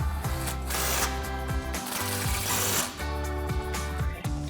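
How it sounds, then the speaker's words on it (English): An impact wrench with a 15mm socket tightens bolts on a 2015-2025 Mustang during a lowering spring install, giving loud continuous hammering rattles in close, dense bursts that fill the whole stretch. "Grab our impact and 15mm socket and tighten those 2 down."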